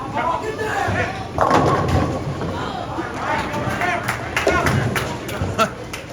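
Bowling ball striking pins on a lane at a JBT finals event at Whitewood, a thudding crash under steady crowd chatter and alley noise, with a few sharper knocks toward the end.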